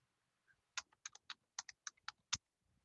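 Computer keyboard being typed on, a short run of about ten crisp keystrokes in an uneven rhythm, close and quiet against a silent background.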